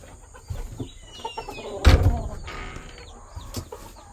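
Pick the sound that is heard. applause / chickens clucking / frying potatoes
chickens clucking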